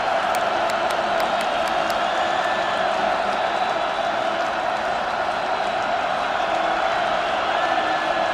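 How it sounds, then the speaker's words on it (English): A football stadium crowd at a college game between Western Illinois and North Dakota State roars in a sustained, loud wash of cheering that holds steady throughout. "Crowd turning it up a notch."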